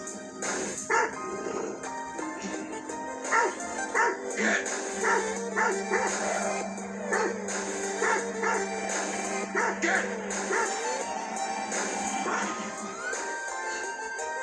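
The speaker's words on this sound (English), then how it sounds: "Oh, the dog ran him away." A dog in a horror film barks and yips repeatedly in short bursts, with whimpering in between, fairly close and loud over a steady tonal background of film sound.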